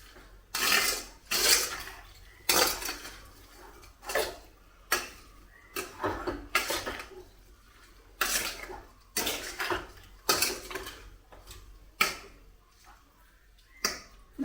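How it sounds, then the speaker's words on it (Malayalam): A spoon stirring lemon pickle mixture in a bowl, a long series of sharp, repeated scraping and clinking strokes at an uneven rhythm, close and clear with no talking. "ഇനി നമുക്കിതിനെ ഇളക്കി ഒന്ന് യോജിപ്പിച്ച് വെക്കാം"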